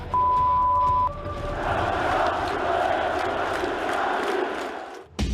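Stadium crowd in Fortaleza roaring in a sustained ovation for a Vasco goalkeeper, dense and broad, with a steady whistle-like tone over the first second, then cutting off abruptly near the end.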